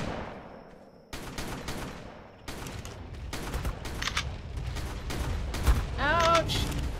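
Repeated shotgun blasts in the video game ARK Survival Evolved, a string of sharp, loud shots spread across the clip, with game combat noise in the background and voices briefly talking in between.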